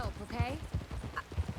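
Hooves of a horse clip-clop in a Red Dead Redemption 2 game scene, a steady rhythmic trot heard up close with a whinny, under a man's speech.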